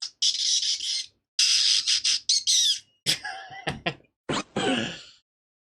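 A person imitates a bird with a string of shrill, rapid squawks and screeches in loud clustered bursts, broken by short silences, close to the microphone with no other talk.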